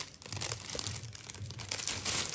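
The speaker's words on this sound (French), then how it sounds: "Je vais déchirer le sachet." A plastic bag holding a BM-700 USB condenser microphone kit is torn and crinkled open up close, with rapid irregular crackling and rustling bursts and no talk.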